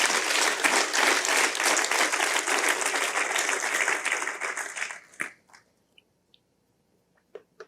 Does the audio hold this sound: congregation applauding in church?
yes